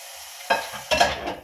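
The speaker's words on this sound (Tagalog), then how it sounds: "So, magigisa lang ako." Food is sautéed in a pan that was just used for frying eggs, with tomatoes going in: two bursts of stirring and sizzling rise over a steady hiss, close and clear.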